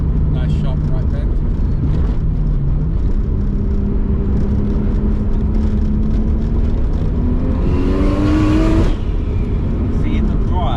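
A 420bhp Nissan R32 Skyline with a 2.0-litre engine takes a sharp right bend on a country road, its steady engine drone shifting pitch through the corner and climbing hard near the end, with people talking inside.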